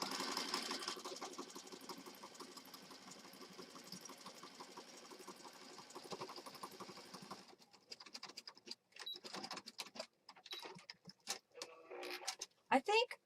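Sewing machine stitching a junk journal planner, running steadily for about seven seconds, then stopping as paper rustles and handling noises follow in quieter, irregular bursts.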